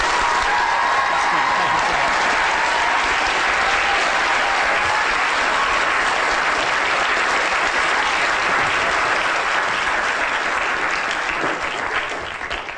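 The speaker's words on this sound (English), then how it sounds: "Would everyone give Vince a round of applause?" A lecture audience at a 2011 brain talk gives a long, full round of applause, loud and sustained for over twelve seconds before fading slightly at the close.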